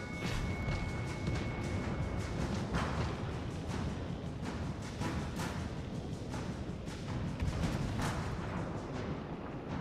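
Heavy naval gunfire from the battleship Texas in World of Warships Legends, dense rumbling booms and blasts layered continuously across the clip with no speech over them.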